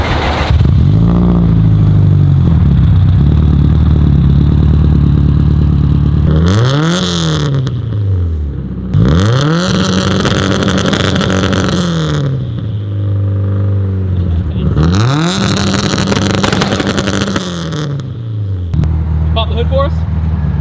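An 850 hp Subaru STI with a swapped 2JZ engine on 42 psi of boost starts up and is revved repeatedly, loud nearby bursts rising and falling over a rough idle.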